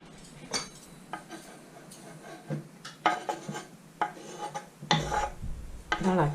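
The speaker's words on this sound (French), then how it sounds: "Et après, je vais mélanger tout ça." A utensil stirring a mayonnaise mixture in a bowl, making soft, irregular scraping and clinking taps that come close and fairly quiet, with no talking.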